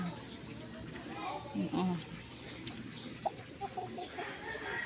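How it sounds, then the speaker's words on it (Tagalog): Chickens cluck softly now and then behind a house amid a low background murmur, with people talking faintly nearby. "Yan ang kanyang tandang."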